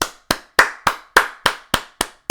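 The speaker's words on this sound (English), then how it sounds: "round of applause for canning a project before it could even start" Eight sharp, evenly spaced claps in a crisp, steady rhythm, close and isolated with silence between each clap, like a clapping applause sound effect.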